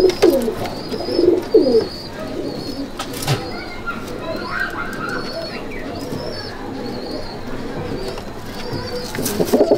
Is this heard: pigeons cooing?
yes